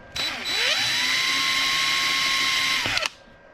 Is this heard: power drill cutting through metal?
yes